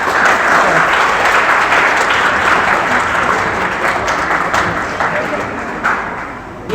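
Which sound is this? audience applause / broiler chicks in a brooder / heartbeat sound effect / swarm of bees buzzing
audience applause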